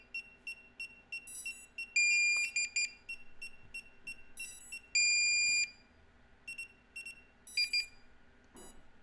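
Repeated high electronic beeps and chirps from a DJI Controller 3 drone remote pairing, in irregular bursts, some longer tones, continuing steadily over faint background noise.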